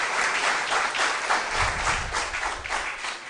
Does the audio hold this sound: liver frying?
no